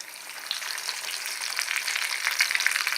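Breaded mutton chops frying in hot oil, a steady bright crackling sizzle that grows slightly busier and louder toward the end, with no speech.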